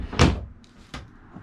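A painted wooden cabinet drawer in a converted bus slides and bumps shut, a sharp knock followed by a second softer clunk, close and alone without talk.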